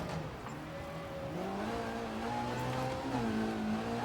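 A rear-wheel-drive rally car's engine in EA Sports WRC on snow and ice, droning steadily and rising in pitch as it accelerates and shifts, a close, continuous rasping note heard alone.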